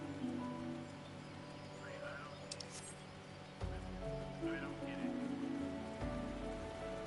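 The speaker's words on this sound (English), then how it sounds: "Oh no, it's raining!" Steady rain patters on surfaces in a Final Fantasy XIV game world, a soft continuous hiss under faint game sounds, with occasional voices in the background.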